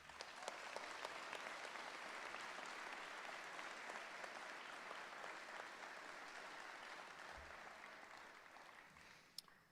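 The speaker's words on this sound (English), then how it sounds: "I ask that our guests join me in applause to acknowledge their hard work and their many" An audience at a dental medicine commencement claps for the graduating class, a dense, even wash of applause lasting nearly ten seconds before tapering slightly at the end.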